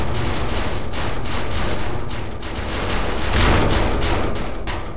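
Many sentry turrets fire at once in the video game People Playground, making a dense, rapid stream of overlapping gunshots that rattles on steadily and loudly for the whole stretch.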